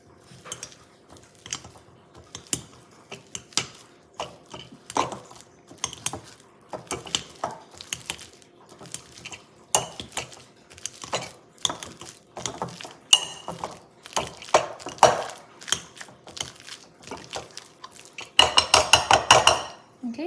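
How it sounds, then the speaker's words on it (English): A banana masher pounds ripe bananas in a bowl for banana bread, giving a long run of irregular clanks, clinks and squishy thuds. There is a busier flurry of strokes near the end. "So now you're gonna take your masher, potato masher, or in this case a banana masher"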